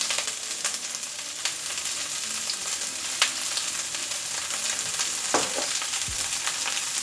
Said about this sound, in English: And lower it to medium heat. And we're going to add the garlic.